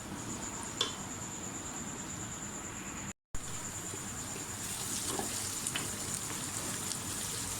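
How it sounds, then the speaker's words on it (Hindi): Onions frying in ghee for a mutton paya dish give a steady, close sizzle with a soft crackle throughout, broken by a brief silent gap midway, with no talking. "प्याज हमारा फ्राई हो गया, थोड़ा सा और इसको करेंगे फ्राई।"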